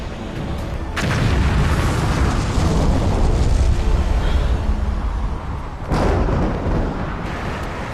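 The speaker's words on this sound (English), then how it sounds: "Finn uses a giant thong to shoot bombs into the Sharknado" Huge movie bomb explosions rumble and boom continuously in a loud, dense roar from a disaster film about bombs fired into a shark-filled tornado, with a sharp new blast partway through.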